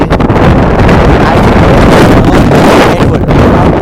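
Strong gusting wind buffets the microphone outdoors, a loud, continuous roaring rush with no break and no voices.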